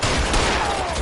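Gunfire in the video game L.A. Noire, a dense burst of rapid shots filling the whole brief moment, loud and close with no gaps between reports.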